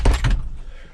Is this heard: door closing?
yes